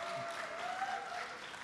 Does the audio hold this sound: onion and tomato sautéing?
no